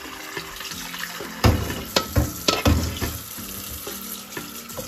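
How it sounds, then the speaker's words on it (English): Hot water runs steadily from a tap over salted codfish in the sink, splashing and gurgling with a few louder bursts. "I like to get hot running water going through it"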